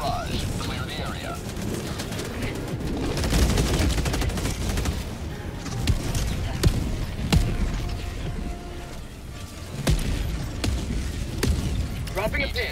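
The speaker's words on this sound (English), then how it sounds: "Firing orbital barrage." An orbital barrage strike in Helldivers 2 sets off dense, sustained rumbling explosions and crackling gunfire that fill the whole stretch, with loud impacts scattered through it and voices talking over the top.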